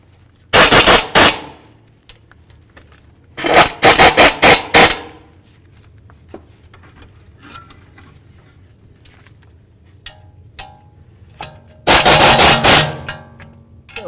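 An impact wrench snugs wheel hub bolts on a 2008–2018 Chrysler Town & Country in three loud, close bursts of rapid hammering rattles, each about a second long, separated by quiet pauses with faint clinks.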